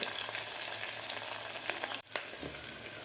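Peanuts, onion and green chillies fry in hot oil for Khandeshi black-masala khichdi, a dense continuous sizzle with crackling pops and one brief stir, close and alone.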